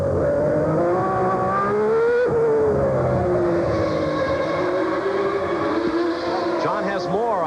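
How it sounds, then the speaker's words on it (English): A Ferrari Formula One car engine drones loudly and steadily, its pitch wavering up and down with a few dips that could be stutters or cutouts, climbing sharply near the end. "Let's see if we can listen in to the sound of this Ferrari and see if it's cutting out."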